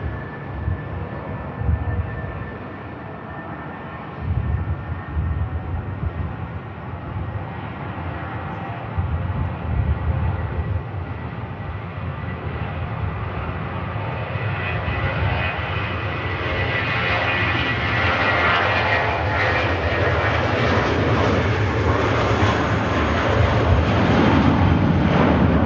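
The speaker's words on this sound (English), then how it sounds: "Stunning aircraft about to come around the corner, ladies and gents." A Kuwait Airways A330neo jet taxiing at Manchester Airport, its engine roar broad and steady, swelling gradually louder as it draws nearer, continuous with no pauses.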